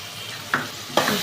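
Three tomatoes sautéing with a little salt in a pan for karuvadu thokku, a continuous close sizzle with two sharp stirring scrapes.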